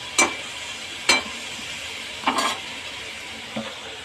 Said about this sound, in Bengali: নাড়াচাড়া করে ভালো করে ভাজতে হবে। টমেটো একটু ভালো করে ভেজে নেব